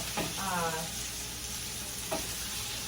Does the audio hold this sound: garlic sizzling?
yes